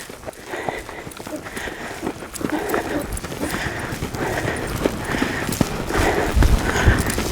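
A ridden horse's hooves thud in a steady walking rhythm on an arena surface, close and moderately loud, with a rider speaking quietly at times over the footfalls.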